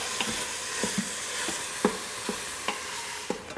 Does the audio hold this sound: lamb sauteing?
yes